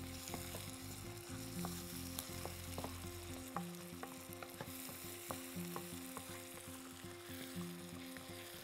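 Red peppers frying in a pan, a steady soft sizzle with scattered clicks and scrapes of a utensil stirring, close and fairly quiet.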